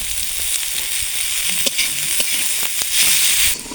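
Vegetables for egg chowmein fry in an oiled pan with a steady, bright sizzle, broken by occasional scraping stirs and small clatters close by, and a louder hissing surge near the end.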